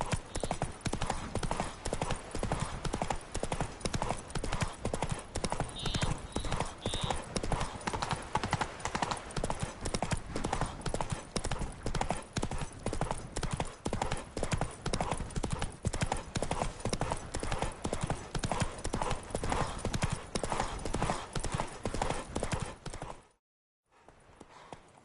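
Roach the horse gallops in The Witcher 3 on PS5, steady rapid hoofbeats running loud and continuous for most of the stretch, with a faint whinny early on, then cutting off abruptly near the end.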